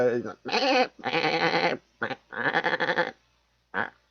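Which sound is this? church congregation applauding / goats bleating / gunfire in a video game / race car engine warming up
goats bleating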